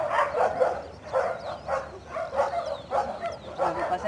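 A dog barks repeatedly in a quick, regular series of loud, close barks, mixed with yips and some whimpering over a noisy background.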